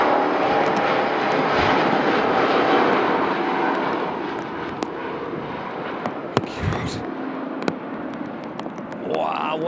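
An Airbus A350 jet airliner lands at Manchester Airport, its engine roar loud and sustained throughout, with sharp cracking pops near the end and voices talking over it.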